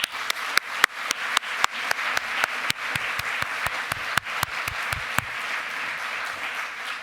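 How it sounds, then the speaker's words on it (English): An event audience claps after speakers at an anniversary poetry and lightning-talk program, with scattered individual claps standing out sharply over a softer bed of applause that thins out toward the end. "Please join me in a round of applause for all of them."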